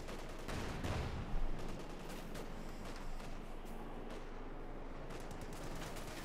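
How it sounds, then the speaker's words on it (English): Dense, continuous gunfire from light machine guns and rifles in the Company of Heroes 2 strategy game, a steady loud battle din with no pauses across the whole stretch. "Going to be sweeping eastwards there with a lot of light machine guns flanking the riflemen there."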